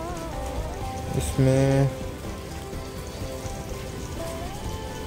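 Steady rain patters on a street during monsoon weather, a soft continuous hiss under someone talking, with a brief tonal beep in the middle.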